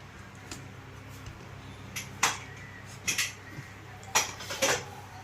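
Several metallic clanks and scrapes of a pot being handled and set down on a lit stove, scattered over a quiet room hum.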